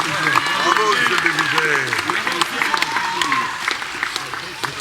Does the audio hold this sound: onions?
no